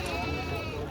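A goat bleats briefly at a busy livestock bazaar where goats and lambs are traded, a short loud cry over a dense bed of crowd noise and murmured voices.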